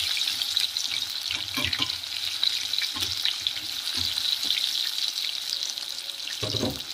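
Potatoes for Kenyan viazi karai fry in hot oil with a steady, loud hiss and crackle, broken by a few bumps and clatters as pieces are moved around the pan.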